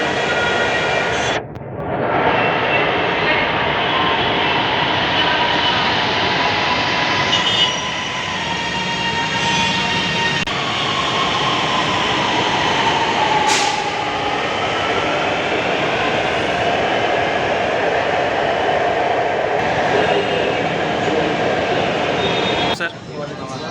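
Interior of a Lahore Orange Line metro train in motion, a loud steady rumble with rising and falling tones and occasional brief clunks, with people talking over it throughout.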